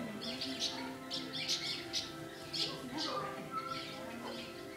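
Several small birds chirp and tweet in quick, uneven bursts, fairly close, while people talk softly nearby.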